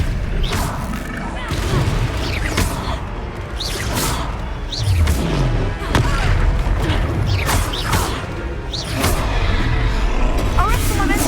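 Spellcasting combat in the video game Hogwarts Legacy, with a run of loud booming blasts, whooshes and crashing impacts repeating through the scene, with voices heard over the action.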